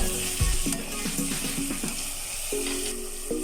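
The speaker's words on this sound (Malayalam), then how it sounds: "വെളുത്തുള്ളി ഇഞ്ചി മുളക് ചതച്ചത് ഇതെല്ലാം ഇട്ട് നമ്മൾ വഴറ്റി വെക്കാം" Crushed garlic, ginger and chili sautéing in a pan give a steady close sizzle, with a few light scraping and clicking stirs over the hiss and no talk.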